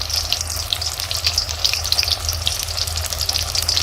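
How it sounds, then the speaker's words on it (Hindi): Eggplant slices fry in hot oil with a dense, steady hiss and bubbling crackle, close and continuous with no pauses. "ये हमारे मज़ेदार से बैंगन फ्राई हो रही है"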